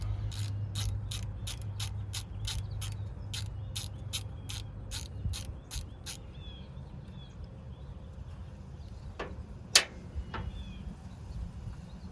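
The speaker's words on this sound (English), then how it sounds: "has a 7/16 bolt holding these plug wires on. So take this off." A hand ratchet clicks in a fast, even run of sharp ticks for about six seconds as a 7/16 bolt holding spark plug wires is backed off. A few scattered clanks follow over a low background hum.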